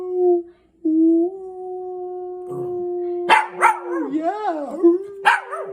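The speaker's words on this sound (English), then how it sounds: "Maybe we can howl without the harmonica today." Dog howling at close range, long sustained tonal wails with wavering pitch that rise and bend, while a person speaks briefly at the start.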